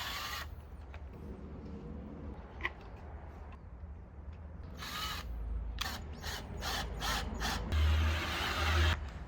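Screws are driven into warped exterior window trim boards on a house, giving short whirring bursts from a nearby driver that grow louder toward the end over steady outdoor background noise.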